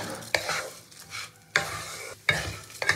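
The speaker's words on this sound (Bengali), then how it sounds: "তো চালটা তো আমি খুব সুন্দর করে ঘিয়ের সঙ্গে ভেজে নিয়েছি।" Gobindobhog rice frying in ghee for basanti pulao, stirred in a pan with soft sizzling and three or four distinct scraping strokes of the spoon, close up with no talk.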